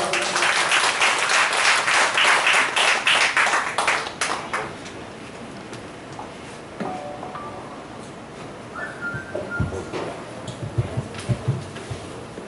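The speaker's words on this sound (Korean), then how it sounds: "큰 박수 부탁합니다" A crowd applauds loudly for a few seconds at a singer's fan club launch ceremony, then the clapping fades into a quieter room with scattered clinks and small knocks.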